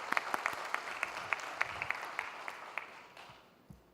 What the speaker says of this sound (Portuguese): Eu pediria, gentilmente, uma salva de palmas a esse grande...